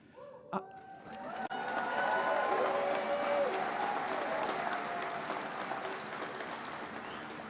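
Applause at a medical school convocation and white coat ceremony, a large audience clapping in a hall that swells quickly after a few scattered claps and then holds steady at moderate volume before slowly tapering.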